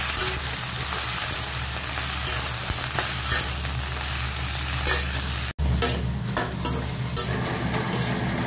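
Food fries and sizzles in a pan at a home kitchen, with steady loud crackling broken by scrapes and clinks of a utensil stirring against the metal and a brief cut in the middle.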